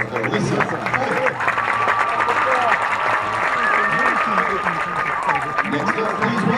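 A high school football crowd applauds a student during a pregame senior recognition, loud continuous clapping with cheers and crowd chatter running through it.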